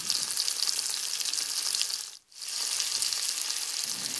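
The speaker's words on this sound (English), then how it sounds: "So we fry separate for a few times and remove to kettle and then mix it together" Slices of deer meat fry in a pan with a loud, bright, steady sizzle that briefly drops to near silence midway before the crackling resumes.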